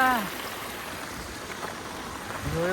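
Steady rushing water from a waterfall fills the background, with a person talking briefly at the start and again at the end over the constant flow.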